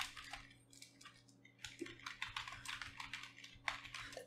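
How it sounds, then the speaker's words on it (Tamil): Rapid typing on a computer keyboard, a steady close-up stream of light key clicks in uneven bursts with a brief pause partway through, with no voices over it. "டைப் பண்ணுறோம்"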